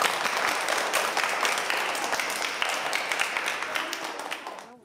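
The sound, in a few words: group applause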